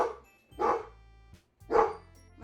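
A dog barks in two loud, close bursts about a second apart, a low rumble of room noise between them and no one speaking.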